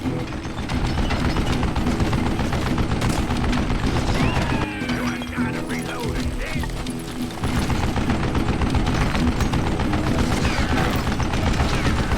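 Rapid, sustained bursts from a mounted gun firing in the video game Call of Juarez Gunslinger, a loud dense rattle that briefly eases in the middle before resuming at full intensity.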